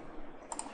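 Two quick mouse clicks in rapid succession, a faint, close double-click at a desk while working in Inventor 3D CAD software, over quiet room hiss.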